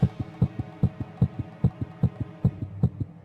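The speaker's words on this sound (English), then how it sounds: "I got a strong heartbeat" A steady, strong heartbeat thumps in a regular double-beat rhythm, loud and close, over a low hum, with no talking.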